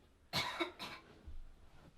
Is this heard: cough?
yes